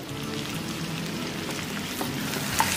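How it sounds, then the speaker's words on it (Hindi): Chicken cooks in a spice masala in a pan with a soft, steady sizzle and crackle, fairly quiet and close, with no voices. "तो यहाँ पर मैं अभी इसको ये मसाले में 2 मिनट पकने दूंगी"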